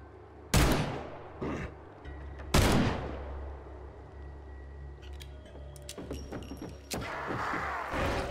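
Gunshots from the Evil Dead: The Game video game: two sharp, loud blasts about two seconds apart with ringing decay, followed by scattered lighter impacts and clicks, then two more bursts near the end.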